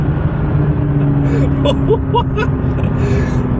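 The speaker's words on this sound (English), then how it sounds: "We're gonna drop a gear. We have it in manual mode. This is second gear. Let's see how she sounds." A McLaren 570S supercar in manual mode accelerates hard in second gear, a steady engine drone heard from inside the cabin with excited gasps and exclamations over it.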